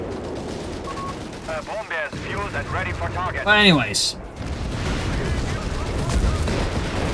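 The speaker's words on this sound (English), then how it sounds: "massive explosions, airburst shell swarms being released upon German possessions" Booming explosions and rattling gunfire from the video game Company of Heroes 3, including airburst shells, fill the background while someone talks over them, with one louder blast standing out midway.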